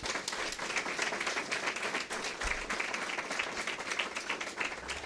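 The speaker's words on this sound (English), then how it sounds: "So let's give them a big round of applause." An audience at a community launch event claps in a lively, continuous round of applause, with individual claps distinct and fairly close and no talking over it.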